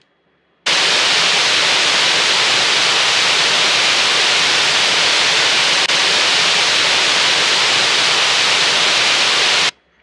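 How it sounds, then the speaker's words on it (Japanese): An AI-generated ocean wave sound effect made by ChatGPT-4o: a loud, unbroken hiss starts abruptly, holds flat for about nine seconds with no swell or retreat, then cuts off. No voice is heard. "海の音を約5秒間作ってくださいというふうに言ってみました。"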